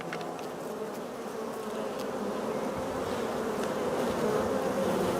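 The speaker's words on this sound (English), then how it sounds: "The young queen bees from swarming colonies, they sing like this." Young queen bee piping inside a swarming honeybee colony, a steady buzzing drone of massed bees with faint tonal piping woven through, continuous and close throughout.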